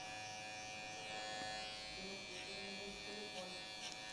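An electric hair clipper fitted with a 1.5 comb guard buzzes steadily and close, with a bright mechanical whine as it works over hair, while a person talks softly underneath.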